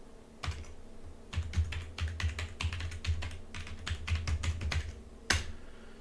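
Password typed on a computer keyboard during a Windows Server 2022 setup: a brief key press, a pause, then a quick run of close, crisp keystrokes with a heavier final tap, no voices.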